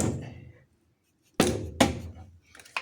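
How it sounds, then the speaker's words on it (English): A rubber mallet bangs on the brake drum of a 1927 Chevy to knock it loose: two solid, close thunks about half a second apart after a quiet pause, then a fainter knock near the end. "We got our rubber mallet here. We're gonna bang it and get it loose."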